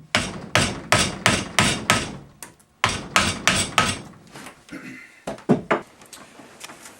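Mallet striking a carving tool into juniper wood, a series of sharp rhythmic knocks in quick bursts, close and loud, with brief pauses between groups of strikes.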